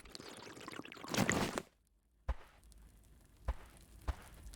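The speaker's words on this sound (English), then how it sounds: "Let's drink some water." A character drinking water in the survival video game Scavland: a steady pouring, gulping water sound builds for over a second and cuts off, followed by a few sharp, isolated clicks over a faint background hiss.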